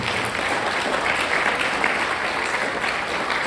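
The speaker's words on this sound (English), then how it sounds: "Please give them another thunderous round of applause for how good they are." Audience applause at a high school band's early spring concert, a dense, steady wash of clapping from a large crowd filling the room at full strength throughout, with no talk over it.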